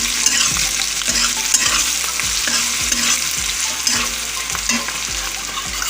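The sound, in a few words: chicken frying in a pan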